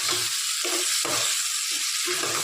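Ginger-garlic paste sizzling and frying in a hot pan for mutton curry, a steady close crackling hiss with soft rhythmic stirring scrapes and no voices.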